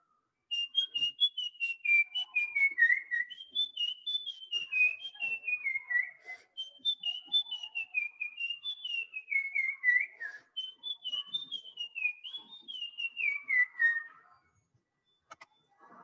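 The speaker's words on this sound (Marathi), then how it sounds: "हा ब्राऊन चिक फॉल्वेट आहे." Brown-cheeked fulvetta song: a series of long, clear whistled phrases that slide downward, repeated steadily one after another for about fourteen seconds, fairly close and alone with no talk.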